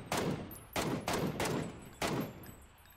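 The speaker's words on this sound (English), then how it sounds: "Multiple people shooting at me." Bursts of automatic gunfire from several players in PUBG on the Vikendi map, four or five loud cracking volleys in quick succession, each with a short echoing tail.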